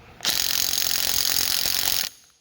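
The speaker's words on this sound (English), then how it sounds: "15/16 socket on my little impact here, my little 3/8 earthquake." A small 3/8-inch impact wrench fitted with a 15/16 socket spins off an axle nut on an EZGO golf cart hub, one steady, close mechanical whirr of about two seconds that stops abruptly.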